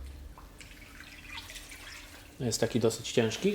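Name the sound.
water dripping from a wet washed rug lifted in bathtub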